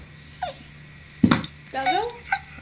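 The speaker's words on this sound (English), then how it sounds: "Oh, there's a dog in here." A dog in a horror video game whimpers and growls in short bursts, including a sharp yelp and rising whines, heard alongside a voice.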